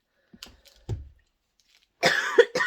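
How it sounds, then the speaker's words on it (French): A sick person makes a few quiet clicks and a brief throat sound, then a harsh, loud cough burst in two parts, close to the microphone. "Je risque de tousser énormément et je m'en excuse"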